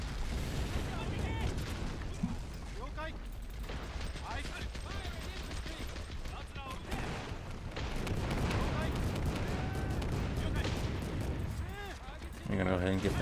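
Soldiers firing in the Men of War strategy game during a Marianas defence battle, dense continuous volleys of rifle and artillery fire with booms, loud and sustained, with someone talking over it.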